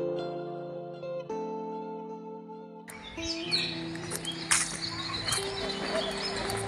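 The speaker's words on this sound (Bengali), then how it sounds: "চারিদিকে সুন্দর সুন্দর পাখির আওয়াজ শুনতে পাচ্ছি, খুব ভালো লাগছে।" Birds calling and chirping in Kulik forest bird sanctuary at Raiganj, with steady tonal song early on giving way to a busier, denser chorus of overlapping calls, moderately close.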